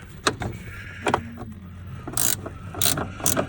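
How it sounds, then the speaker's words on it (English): A small 10mm wrench snugs down intake bolts on a Chevy Silverado during an S&P intake install, making sharp metallic ratcheting clicks in short bursts, close up in a quiet garage. "I got to use a little 10mm wrench"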